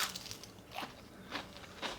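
Crisp crunching bites into an Indian-style onion ring, three short crackly bursts spaced roughly half a second apart, close to the mic with a soft background hiss and no talking.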